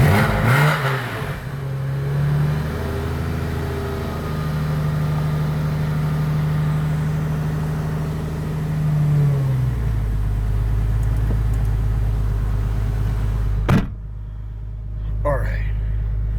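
A Porsche Boxster cold-starting at 5 degrees fires up into a loud, high, revving idle that drops to a deeper, steady rumble after about ten seconds, with a sharp knock near the end.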